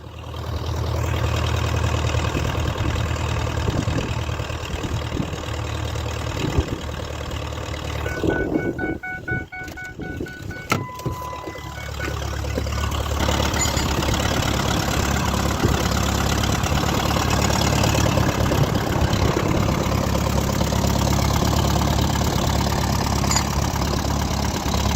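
A Case VAC tractor engine idles with a steady low, rough thrum throughout, dipping briefly near the middle before settling back into its even running, with a few faint voices in the background.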